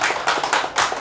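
A lecture audience claps in agreement, a short burst of scattered, uneven claps from a modest group, fairly close and steady through the whole second.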